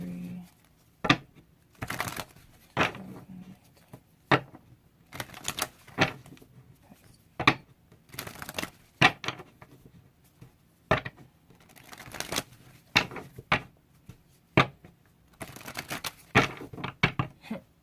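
Tarot cards are shuffled close up in a quiet room, a string of crisp irregular riffles and snaps with short pauses between bursts.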